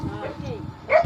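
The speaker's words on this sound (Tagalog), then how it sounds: "May mga aso mga idol" Dogs bark in a short, close burst near the end, following a stretch of someone talking.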